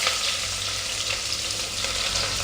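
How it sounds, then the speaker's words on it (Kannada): Onions frying in a hot oil tempering for vegetable pulao, a loud, dense, continuous sizzle heard up close without any talking. "ಈರುಳ್ಳಿನ ಹಾಕೋತಾ ಇದ್ದೀನಿ. ಈರುಳ್ಳಿ ಸ್ವಲ್ಪ ಫ್ರೈ ಆದಮೇಲೆ"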